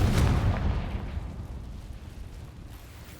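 A Confringo spell explosion from the video game Hogwarts Legacy, cast in a cavern, lands as a single loud, deep boom that fades with a rumbling tail over a few seconds.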